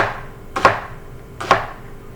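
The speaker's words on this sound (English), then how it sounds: "And then I'm just going to slice them because we're going to saute the leeks separately from the potatoes" Two sharp knife strokes slice through leeks on a cutting board, spaced almost a second apart, each a crisp crunchy chop followed by a brief ring, close and clear with no talk.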